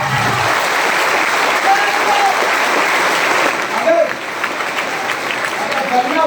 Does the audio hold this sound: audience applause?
yes